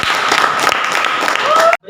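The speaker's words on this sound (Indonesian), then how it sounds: "kita beri tepuk tangan untuk Gibran." A classroom group claps for Gibran during a teacher-training session on marriage contracts, a loud, close burst of hand clapping that cuts off abruptly near the end, with a voice briefly heard among the clapping.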